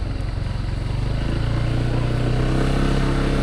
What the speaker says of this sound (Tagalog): Motor lang daw makakadaan.